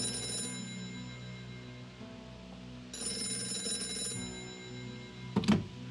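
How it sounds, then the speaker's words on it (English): A telephone rings inside the Gray Matter adventure game, a steady electronic bell tone heard in two bursts with a quieter stretch between, over a humming game background, closing with a short sharp click or pickup. "How did you know the phone would ring just now?"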